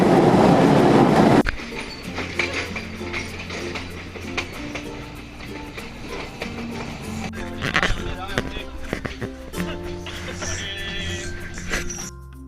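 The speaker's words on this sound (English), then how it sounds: "Very noisy on the train." Loud roar at first, then the rattling, clanking interior of a moving train in Sri Lanka with squeals and knocks; voices can be heard faintly among the noise.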